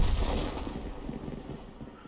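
A tank cannon shot from an Object 261 in a tank video game, a loud boom at the start that rolls off into a long rumbling decay, with no one talking.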